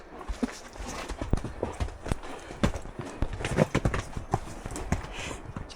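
Horses' hooves clip-clop steadily over a rocky track in New Zealand's Leatham Valley, a dense run of close, irregular strikes with no talking.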